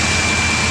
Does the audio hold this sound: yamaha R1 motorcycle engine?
yes